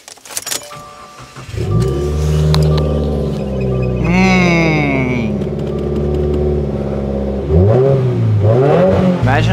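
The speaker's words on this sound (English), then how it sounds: "But let's just hear the cold start." A car engine cold-starts with a cranking burst, catches and settles into a loud, steady fast idle, with a brief rev partway through and another rise near the end; key jingles come just before the start.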